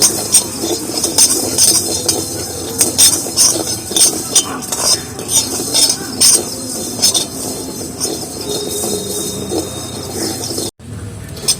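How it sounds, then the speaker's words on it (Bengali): A utensil scrapes and stirs guava leaves and tea leaves frying in a pan, with frequent clinks over a steady frying hiss, close up; the sound cuts out briefly near the end. "চা পাতাটা আর এর সাথে কিন্তু ভালো করে মিক্সড করে ভেজে নিচ্ছি"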